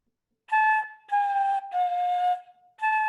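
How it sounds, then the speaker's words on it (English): A simple melody played on a flute head joint alone: four clear, breathy whistle-like notes, separated by short gaps, with the pitch shifting slightly between them, close and alone. "You can honestly play some very simple melodies with this,"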